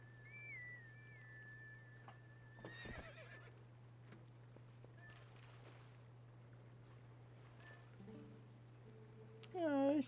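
A horse neighs and whinnies in the video game The Legend of Zelda: Twilight Princess, with clip-clop hooves and a whistled melody over a steady game hum, with a loud whinny near the end.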